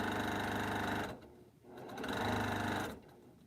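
A sewing machine joins quilt patches along matched seams for a checkerboard grid. It hums in two steady runs, about a second apart, with a brief slowdown between them.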